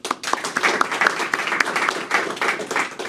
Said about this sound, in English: hold your applause until the end of this list